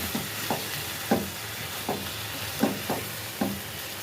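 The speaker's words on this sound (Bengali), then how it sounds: "ভেজে রাখা পনিরটা এর মধ্যে দিয়ে দিলাম।" Fried paneer cubes tossed into a pan of poppy seed paste, with a low sizzle and about seven distinct stirring scrapes in an irregular rhythm, close and without speech.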